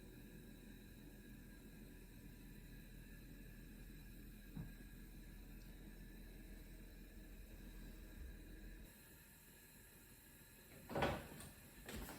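An oven door closes in a home kitchen as a tray of roasting outdoor-grown allotment tomatoes goes in, heard as a single soft thud near the end over a steady, quiet background hum.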